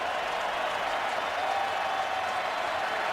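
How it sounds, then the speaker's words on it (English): Stadium fans cheer at a Raiders at Titans NFL football game, a dense, continuous roar of crowd noise and clapping, distant and steady without clear breaks. "Fans here trying to cheer on this defense."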